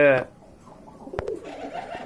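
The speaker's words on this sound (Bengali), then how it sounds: "এখানে কিন্তু আপনার ম্যাক্সিমাম কবুতরগুলোই কিন্তু রাজগোল্লা কবুতর" Rajgolla pigeons in a large pigeon collection: a low, soft cooing follows a brief spoken word at the start, with a few sharp clicks and faint rustling around the birds.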